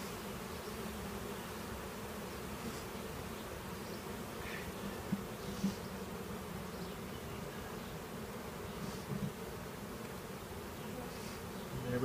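Honeybees from two newly installed package hives buzz in a dense, continuous drone, close and steady throughout, with no talking.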